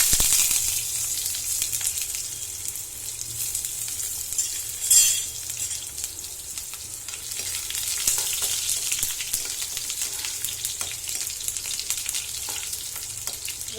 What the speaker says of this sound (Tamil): வெங்காயம் கொஞ்சம் வசங்கட்டும்.